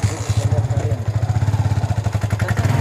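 A motorcycle engine runs close by with a rapid, throbbing low pulse and mechanical clatter while someone learning to ride it starts off, steady and loud throughout.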